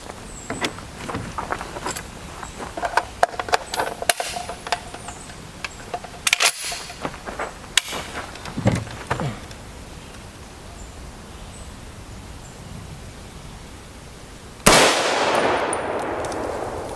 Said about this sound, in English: For the 308 test, we'll throw 3 rounds of M80 Ball at it.